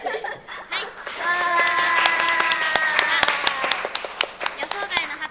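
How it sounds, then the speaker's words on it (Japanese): Audience applause breaks out at a live stage show, with brisk individual claps, a sung or held voice early on and laughter and chatter mixed in as the clapping thins toward the end. "予想外の拍手ありがとうございます。"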